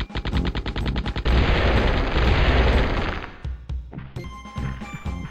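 Video game gunfire in Gex 3, a rapid automatic burst of close, loud shots that swells into a dense roar, then trails off into scattered pops and effects.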